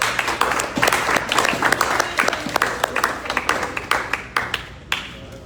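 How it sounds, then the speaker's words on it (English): Close, lively clapping from an audience at a track and field awards ceremony, honoring a high jumper, with individual sharp claps standing out in an uneven rhythm and gradually thinning toward the end. "So let's give her a round of applause"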